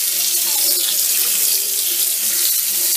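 Hot water pours from a tap in a steady, hissing stream while blueberry-dyed embroidery floss is rinsed under it, close and continuous without speech.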